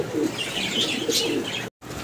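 Grizzle racing pigeons coo softly in low, rolling calls over a constant background hum, with a few higher chirps and a brief cut near the end.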